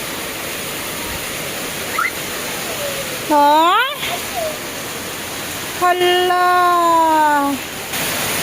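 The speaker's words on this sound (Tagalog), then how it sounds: "Ang lakas ng ulan." Heavy rain pours down outside a home, a loud, continuous hiss that fills the space while people briefly exclaim and speak over the downpour.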